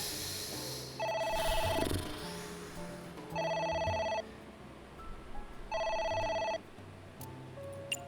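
A phone rings in the AI: The Somnium Files video game, three electronic trilling bursts about a second long with gaps between, set against soft background game music.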